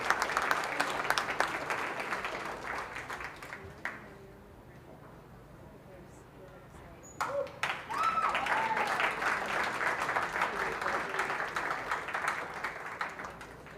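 A crowd at a junior fair sheep show applauds the sheep showmen, steady moderate clapping that fades into a quiet lull with a few voices, then swells again into renewed applause.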